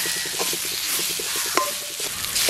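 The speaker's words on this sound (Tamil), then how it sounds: "ரெண்டு நிமிஷம் தனி எண்ணெயில் வதக்கி போட்டு ரெண்டு எல்லாத்தையும் சேர்த்து வதக்குங்கோ" Onions and spices sauté in oil for a mutton curry, giving a steady close sizzle with soft stirring scrapes and one brief clink of utensil against the pan.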